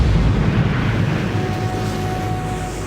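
A nuclear bomb explosion roars as a continuous, heavy low rumble that starts loud and slowly tapers, with no speech over it.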